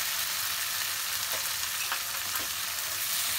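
Soya kofta masala with tomatoes and cashews fries in a pan, a dense, even sizzle and hiss running continuously from start to end, close up, with a few faint stirring scrapes and no talking.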